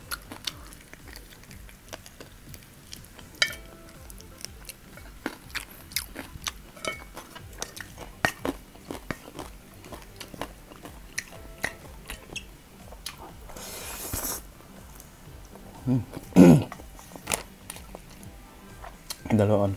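Crunchy fried chicken and spicy Korean noodles with fried egg being chewed up close at a mukbang, with soft crunches and wet bites scattered through a quiet stretch and a few louder bites near the end.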